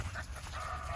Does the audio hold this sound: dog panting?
yes